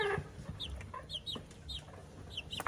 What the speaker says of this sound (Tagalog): And then chicken chicks.